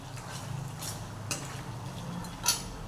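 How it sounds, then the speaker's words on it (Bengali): Chicken being stirred and sautéed in a pan, soft scraping with a low sizzle and a few faint clinks of a spoon against the pan, quiet and close. "তো আমি এই জন্য ভালো করে কষিয়ে নিচ্ছি।"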